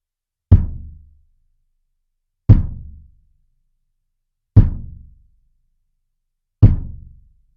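A tuned bass kick drum is struck four times, evenly spaced about two seconds apart, each hit a deep, resonant thump with a short decaying boom, played alone with no talk.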